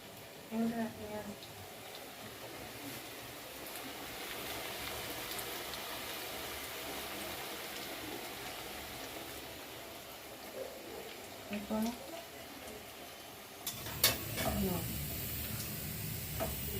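Vegetables frying in a pan give a steady, moderately loud sizzle with a few light stirring scrapes, running continuously and growing slightly brighter near the end.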